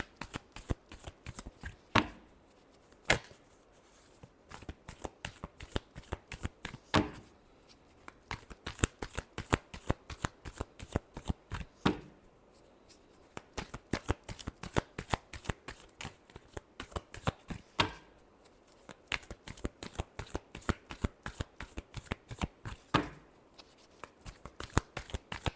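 Tarot cards are shuffled by hand in long runs of quick, crisp riffling flutters with brief pauses between bursts, close and fairly loud, with no voices.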